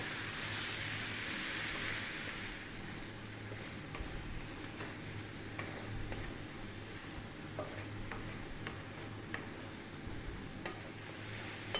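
Prawn curry masala fries in a pan while being stirred, a constant sizzle with scattered soft scrapes and taps of the spoon throughout, no voices.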